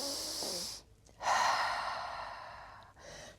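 Slow deep breathing, close to the microphone: a long exhale, a brief pause, then a loud full inhale tapering off, followed by the start of another breath.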